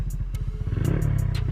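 A Suzuki Satria motorcycle with an aftermarket exhaust being revved, its low rumbling pulses quickening into a steady throaty drone, loud and close, with no talk over it.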